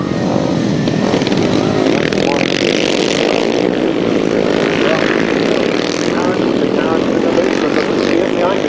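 Grasstrack motorcycles race at the 1997 Keylands Summer Spectacular, their engines a loud continuous snarling roar with rising and falling revs as bikes jostle for the lead, with a commentator talking over it.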